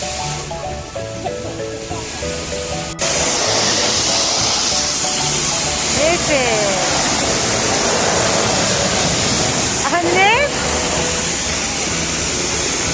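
Loud, steady spray of water hisses continuously during a car wash, with a child and someone briefly speaking over the rushing noise.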